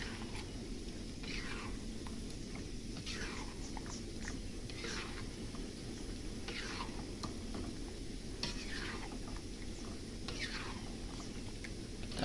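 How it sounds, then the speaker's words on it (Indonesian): Cilok tapioca balls are stirred in a thickening sauce with added sweet soy sauce, giving steady rhythmic spatula scrapes and a soft background sizzle, with no talking. "Kita aduk-aduk hingga mengental ya guys."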